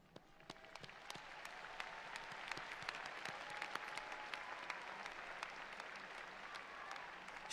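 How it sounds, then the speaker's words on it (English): An audience at a college commencement ceremony claps steadily, a dense, sustained applause that builds slightly and stays even throughout, heard from a moderate distance with no voices over it. "A round of applause for you and your collective posse."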